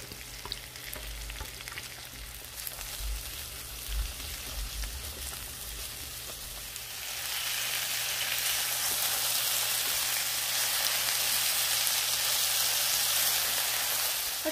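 Carrots and tomatoes sizzle in a pan with pepper shrimp, a steady frying hiss that swells louder and brighter about halfway through, with occasional low stirring bumps early on.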